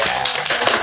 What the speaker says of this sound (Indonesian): Boleh minta tepuk tangannya semua?